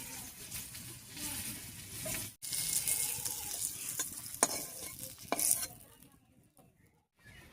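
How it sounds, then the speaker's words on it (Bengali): Bitter gourd pieces with salt and turmeric frying in mustard oil, with a spatula stirring and scraping in the pan over a soft sizzle; the sound is quiet and uneven, with short breaks, and no one speaks. "লবণ হলুদ দিয়ে উচ্ছেটাকে বেশ লালচে রং ধরিয়ে ভেজে নিয়েছি"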